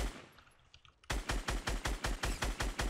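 Rapid automatic gunfire from Fortnite starts abruptly after a quiet moment and continues as a steady, evenly spaced burst of loud, close shots.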